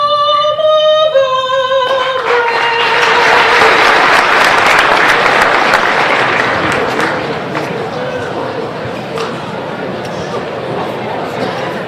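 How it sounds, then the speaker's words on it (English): A banquet audience breaks into loud applause after a sung anthem ends, dense clapping swelling to a peak and then tapering off over several seconds, with a voice briefly heard at the start. "Let's give her another round of applause, please"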